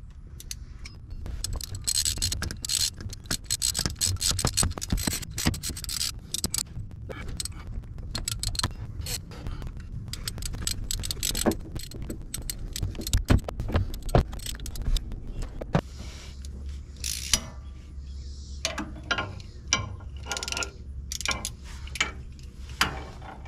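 Ratchet wrench tightening 10 mm bolts on a power steering pump of a 2003 Ford F350 Super Duty 6.0, with rapid clicking bursts and metallic clatter close by in a busy garage.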